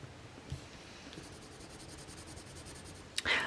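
Soft, continuous scratchy rasp of a coloured pencil moving across paper, close and quiet, ending with a louder rustle.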